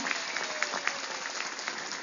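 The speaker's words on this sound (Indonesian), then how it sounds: "Tepuk tangan dulu buat Pak Camat, Pak Daramil." At a religious gathering in Gumelem Kulon, a crowd applauds the sub-district head and the military commander, a continuous, even wash of clapping from many people, moderately loud and somewhat distant.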